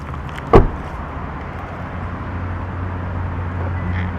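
Smart key locking the doors of a Toyota Fortuner 2.8 Legender 4WD automatic: one sharp, close mechanical clunk near the start, followed by a steady low idle-like hum and faint background noise.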